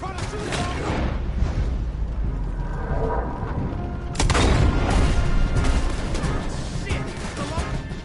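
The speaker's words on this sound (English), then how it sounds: "Try to shoot him!" Gunfire in the video game Red Dead Redemption 2 during a chase along a blocked road, a rapid string of close, sharp shots and booms growing louder midway, with voices shouting over it.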